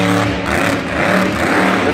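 A monster truck engine roars loud and continuously at a Monster Jam show in Santa Clara in 2018, a dense, sustained rumble blended with arena noise and no clear pauses.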